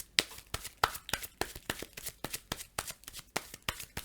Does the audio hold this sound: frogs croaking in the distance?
no